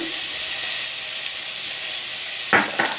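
Vegetables sizzling in oil in a pan, a steady bright frying hiss throughout with a couple of brief scraping stirs near the end, close and fairly loud.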